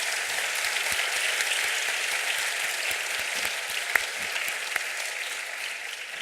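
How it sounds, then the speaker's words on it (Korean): A church congregation claps for its choir, conductor and accompanist after a Sunday service. The clapping is steady, even and sustained, with a few sharper individual claps standing out. "우리 격려하는 의미에서 박수 한번 드리겠습니다"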